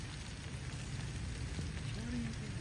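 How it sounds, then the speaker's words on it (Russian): Steady rain falls on a hot summer day, a dense even patter and hiss that holds at constant level throughout, fairly faint and close, with no talking over it. "Как хорошо дождик пошел."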